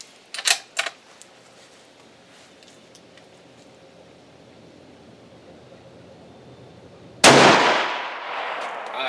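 Rifle with an ATN X Sight II scope fired at a 100 yard target while zeroing, a single sharp, loud report late in the clip with a decaying tail, preceded by a couple of quieter clicks.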